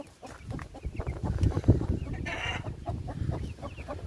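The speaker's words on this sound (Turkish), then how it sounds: "Diğer tarafta tavuklar da gıdaklıyor" Chickens cluck steadily in a busy coop, several birds overlapping at close range with a brief louder squawk partway through.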